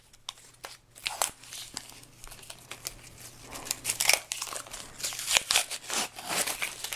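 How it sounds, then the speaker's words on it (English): Sublimation paper is peeled off pressed acrylic, giving irregular crinkling and tearing rustles of varying loudness, close and without talk. "now we're going to take any extra paper off that we can get off"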